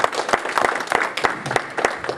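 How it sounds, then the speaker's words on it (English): An audience at an interfaith workshop on toxic polarization breaks into applause, a dense, steady patter of many hands clapping close by with a few sharper individual claps standing out. "Please give them a round of applause."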